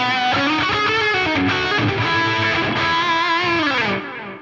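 An electric guitar riff on a Revenant rig, run through an 808, reverb and tape delay, rings out loud and sustained, with layered ringing notes and a smeared echo tail that thins out near the end.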